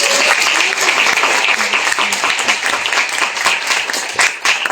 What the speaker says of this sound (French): Donc on vous applaudit très fort.